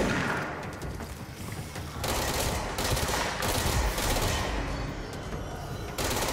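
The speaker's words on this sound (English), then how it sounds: "I'm getting shot at." Enemy gunfire in the video game Control, sustained, loud bursts of automatic shots and impacts rattling almost continuously with short gaps, dense and close, no voices.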